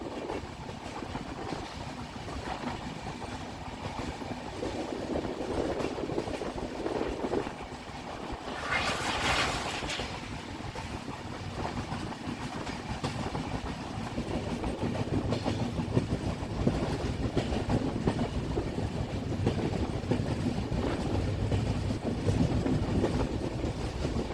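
The Darjeeling Mail express runs at speed from Sealdah toward New Jalpaiguri, heard from inside as a steady, dense rumble of wheels and carriages with faint rattling throughout.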